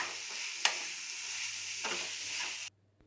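Crushed jackfruit being stirred with masala in a pan for a Kerala-style idichakka cutlet, a soft continuous scraping sizzle with a couple of sharper spoon knocks, close and steady, no talking.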